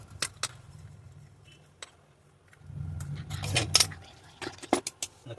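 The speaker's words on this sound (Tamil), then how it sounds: "நம்ம இந்த காயில் கட் பண்ணுவோம் மொத்தமாக" Metal wire coil snipped and pulled off a PCB holder frame: scattered sharp metallic clicks and jangles, close and fairly quiet, with a denser burst of rattling handling noise in the middle.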